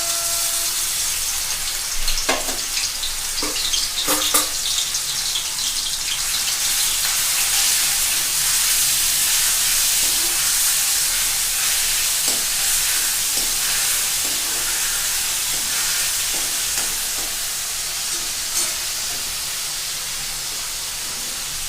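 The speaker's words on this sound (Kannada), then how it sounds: "ಎಣ್ಣೆ ಕಾದ ಕೂಡಲೇ ಅದಕ್ಕೆ ಶುಂಠಿ ಬೆಳ್ಳುಳ್ಳಿ ಪೇಸ್ಟ್ ಹಾಕೋಣಂತೆ." Ginger garlic paste sizzles steadily in hot oil in a pan for palak paratha, a continuous close hiss with a few brief clinks early on and no talking.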